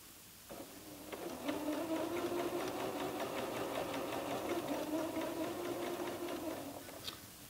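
A sewing machine stitches a hem in one steady run, its motor whirring and needle chattering rapidly at a constant pace for several seconds before slowing to a stop, fairly quiet and alone.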